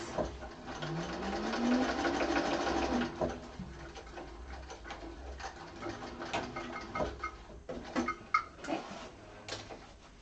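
A sewing machine stitching the sides of a bag runs in a loud, steady burst that rises in pitch, then eases into quieter intermittent stitching with clicks and handling noises.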